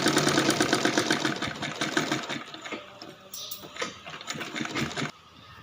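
A sewing machine stitches a cloth shopping bag in a fast, close rattling run that slows and breaks into shorter uneven bursts toward the end.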